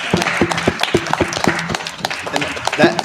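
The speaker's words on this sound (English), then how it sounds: "I want to give her a round of thanks and applause as well" Scattered clapping from a small group during a live financial talk show event, uneven and fairly close, mixed with voices speaking over it.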